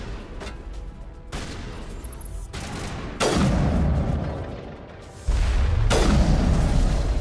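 Gunshots in a first-person shooter game sound as several sharp, booming blasts that each leave a heavy rumbling tail, loud and close over a continuous background din with no voices.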